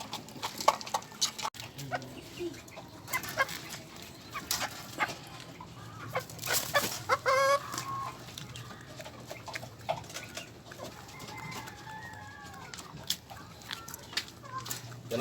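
Chickens clucking around a farmyard with young chicks and ducks, intermittent clucks and calls over a busy background, with people talking in between.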